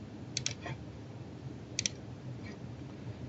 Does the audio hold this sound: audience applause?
no